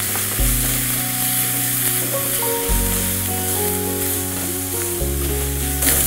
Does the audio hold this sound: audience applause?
no